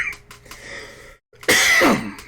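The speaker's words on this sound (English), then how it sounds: "Sorry, I had a cough there." A single person coughs, with a short throat sound first, a brief pause, then one loud, harsh cough burst close to the mic.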